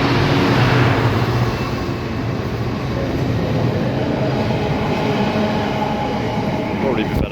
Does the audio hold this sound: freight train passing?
yes